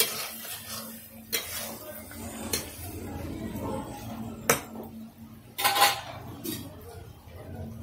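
A spoon scrapes and clinks against a pot while mutton curry with potatoes is stirred and fried, steady close stirring with occasional sharper metal knocks over a faint sizzle.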